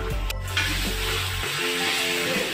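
Tomato paste frying in a pan for egg manchurian gives a steady, close, hissing sizzle with faint scraping, no voices.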